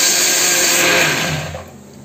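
A blender grinds chickpeas with a little milk for a milk shake, a loud, close whirring roar that runs steadily and then winds down toward the end.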